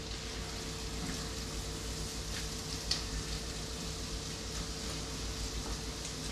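Diced onions, with a few larger chunks, frying in a pan at a camp cook setup. A faint, steady crackling sizzle plays under a low background hum, with scattered small pops and no voices.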